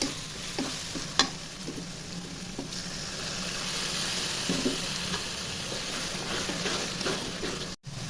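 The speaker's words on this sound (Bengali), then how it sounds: "মশলাটা ভাজা ভাজা হয়ে গেছে" Turmeric, chilli, coriander, cumin and salt frying in a pan with a little water for broiler chicken bhuna, a soft continuous sizzle with a few scraping stirs, one louder knock early on and a brief dropout near the end.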